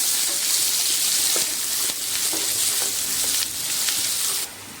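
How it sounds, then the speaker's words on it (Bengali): Chopped onion and chilli sizzling in hot oil in a pan, a steady bright crackle with a few soft scrapes as the mix is stirred, the frying loud and close with no talk. "এবার আমি এটা ভালো করে নেড়ে চেড়ে নেব।"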